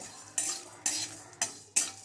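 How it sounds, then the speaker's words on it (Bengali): Four separate scraping, clattering strokes of a spatula stirring dry ingredients in a dry metal pan, spaced unevenly against a quiet hiss. "এবার সব একসাথে দিয়ে আমি শুকনো কড়াই ভেজে নেব"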